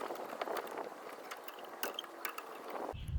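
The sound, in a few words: brake caliper piston compressor adapter twisted on Mini Cooper rear brake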